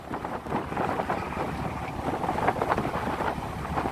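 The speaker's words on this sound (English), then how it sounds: "It's been a really grey, windy day." Wind buffets a sailing boat under grey skies near Kyleakin on Skye, a steady broadband rush and roar that fills the whole stretch with no talk.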